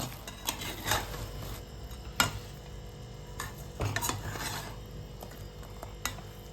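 A spoon stirring fried bread pieces through sugar syrup in a pan for double ka meetha, giving irregular metallic scrapes and clinks at close range over a low hiss.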